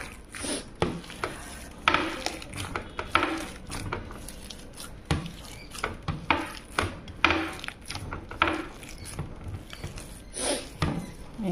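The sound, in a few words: mixing chicken nugget mince by hand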